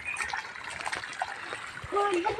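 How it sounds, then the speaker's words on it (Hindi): Water falling and trickling into a farm field where maize is being irrigated, a steady splashing wash throughout with light background sounds and a voice at moments. "ये देखिए यहाँ पीछे में पानी गिर रहा है मेरा।"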